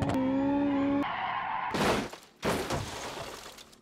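Car drifting in BeamNG video game, tyres squealing and skidding with a steady engine drone, then harsh scraping noise and a second burst of skidding, near and fairly loud.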